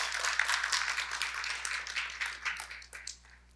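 Audience applause at an autism festival ceremony after a speaker's opening address: a dense crowd clapping that holds steady, then thins and fades out toward the end, with no one speaking.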